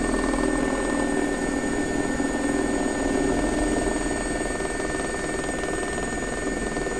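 SA342 Gazelle helicopter in the flight simulator X-Plane 11, flying toward a warship landing: a steady, continuous whine of turbine and rotor with a constant high tone, loud and close with no breaks.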